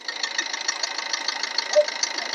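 A 2015 Maruti Ertiga petrol engine idling just after a cold start, a steady, close mechanical hum with a faint rhythmic ticking and no voices.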